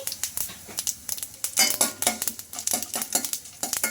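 Chana dal, urad dal, cumin and mustard seeds frying in a spoonful of hot oil, a close, crackly sizzle with quick popping bursts and the light clink of a spoon stirring the pan.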